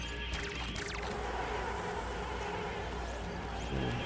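Bees buzz steadily in the Evil Genius 2 video game, a continuous insect drone over game sounds, moderately loud and unbroken for several seconds, with no voices.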